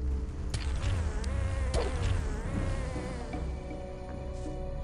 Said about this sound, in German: Da ist noch mehr so kleines Fliegengeschmeiß.